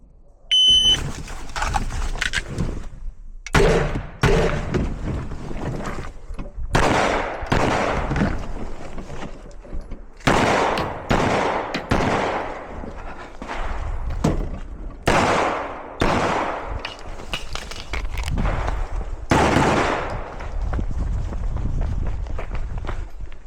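Pistol shots ring out at a shooting competition in loud, sharp cracks, some in quick bursts and others spaced apart, with short gaps of quiet between strings.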